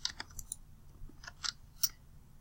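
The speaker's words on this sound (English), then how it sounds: "so I'm typing in my equation." Someone types an equation on a computer keyboard, a handful of light, scattered key clicks at an uneven pace, faint and close, with no talk.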